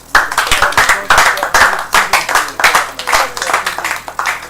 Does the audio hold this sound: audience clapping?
yes